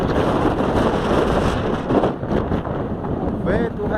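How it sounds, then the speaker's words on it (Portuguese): A strong whirlwind roars outdoors, rushing and gusting hard against the microphone, while someone speaks faintly under the wind. "O vento redemoinho,"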